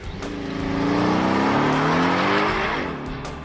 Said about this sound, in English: took it out for a test drive